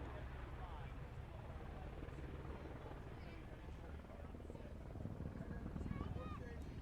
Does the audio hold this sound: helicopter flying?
yes